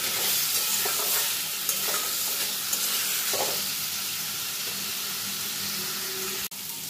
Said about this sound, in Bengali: গ্যাসের ফ্লেমটা কিন্তু আমার সিমেই আছে, আলু আর কচুটাকে ভেজে নেব।